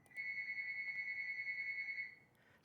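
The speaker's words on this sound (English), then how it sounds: "That's the phone ringing." A phone rings indoors with a steady electronic tone, one sustained trill of about two seconds, moderately loud against quiet room noise.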